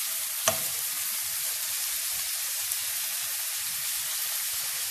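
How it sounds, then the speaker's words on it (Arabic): Minced meat frying in a mix of margarine and oil gives off a steady, even sizzle, with one sharp crackle near the start. "نخليها تقلى شوية"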